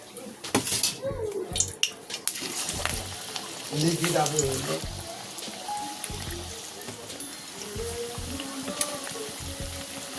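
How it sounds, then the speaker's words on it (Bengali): Coriander leaf fritters frying in hot oil, a close, steady sizzle with occasional stirring and clatter of a pan, and bursts of louder bubbling near the start. "এইভাবে সবগুলো ভেজে নেব"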